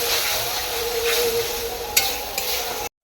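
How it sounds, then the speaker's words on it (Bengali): Spice paste with turmeric and salt sizzles steadily as it is stir-fried in a pan for an aloo soybean curry, with a couple of brief scraping accents over the close, constant crackle. "দিয়ে ভালো করে মশলাটাকে কষিয়ে নেব"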